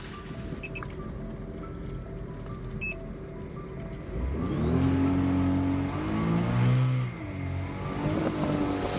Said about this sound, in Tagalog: Hirap na hirap yung motor.